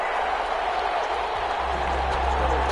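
Stadium crowd in an American football video game, Buccaneers versus Lions, a steady broadband roar of cheering and applause filling the whole moment with low rumble underneath.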